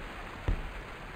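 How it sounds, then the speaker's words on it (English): Steady rain falling outdoors in a graveyard, a dense even patter with one brief dull thump partway through and no voices. "it's raining currently"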